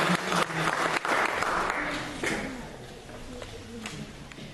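An audience at a poetry reading applauds a poet, clapping strongest at first and then tapering off as voices murmur beneath it.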